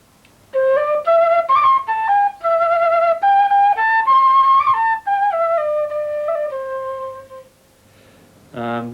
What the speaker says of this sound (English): It's called a cana. It's made out of kind of bamboo style material,